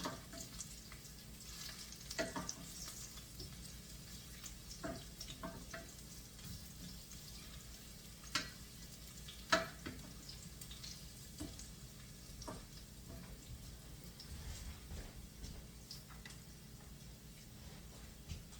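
Garlic cooks in olive oil in a pan with a very faint, continuous low sizzle, broken by scattered soft clicks and utensil taps over a long stretch, with no voices.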